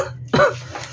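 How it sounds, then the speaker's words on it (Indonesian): A person coughs once, sharp and close, then the sound fades into a quiet room. "Maaf ya, batuk aku."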